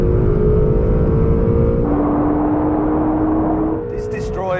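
A Honda NSX with a hybridized mid-mounted twin-turbo 3.5-litre V6 races a Honda Fireblade motorcycle, its engine roaring loudly and steadily with a gear-change shift in pitch partway through.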